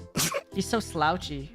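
A single person sneezes up close and abruptly, followed right away by casual talking from nearby voices.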